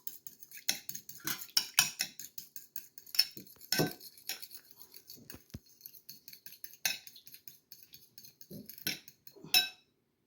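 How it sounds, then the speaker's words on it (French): A spoon stirs salad dressing of olive and sunflower oil in a dish for a Moroccan-style jardinière salad, making a steady run of light clinks and scrapes that rises and falls, close and alone. "l'huile de tournesol et je mélange bien. Il faut bien mélanger."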